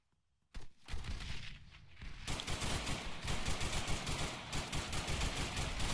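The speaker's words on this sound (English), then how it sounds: "That was a grenade launcher." Grenade launcher fire in the Arma 3 military shooter game: after a brief silence, a sharp blast opens a sustained barrage of loud, rapid gunfire and explosions, close and dense throughout.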